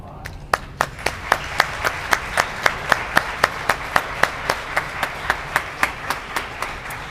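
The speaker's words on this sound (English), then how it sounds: "round of applause." Crisp, evenly spaced claps keep a steady beat of about three per second at the Excellence in Education Awards 2022 ceremony, sharp and prominent over a faint crowd background.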